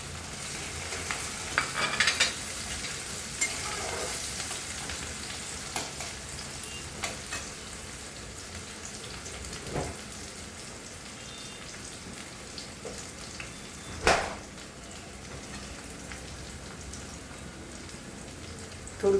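Chopped onion and green chilli fry in a pan, a steady close sizzle with scattered crackles and pops and a sharper spatter near the end.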